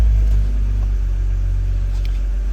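A BMW N52 inline-six engine idles steadily after a ValveTronic fault repair, with a loud, even low rumble that holds throughout and no voices.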